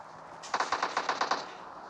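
A quick burst of automatic gunfire in a shooting video game, about eight rapid shots in a steady rhythm, moderately loud over low background hiss.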